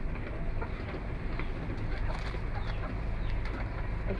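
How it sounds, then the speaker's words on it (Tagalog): Chickens clucking amid a dense, steady background of ambient noise, with occasional sharper calls poking through. "Ang dami naming manok."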